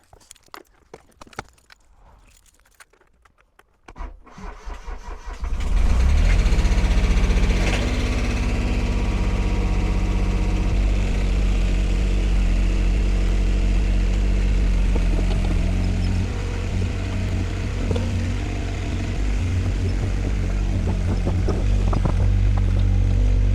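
A mini digger engine, run for the first time in eight months, cranks after a few quiet clunks and catches into a loud, steady diesel rumble that keeps running without a break.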